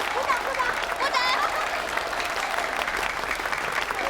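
Steady applause from a small crowd carries on for several seconds, fairly close, with voices talking and calling over the clapping.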